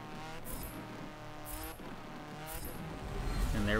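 Race cars rolling to the start in Forza Motorsport 7, engines humming and revving with gear-change whines and periodic surges, building in loudness near the end.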